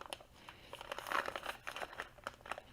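Paper bag being folded along its crease through several layers, giving close, quiet crinkling and crumpling with soft crackles that swell in the middle, and no talking.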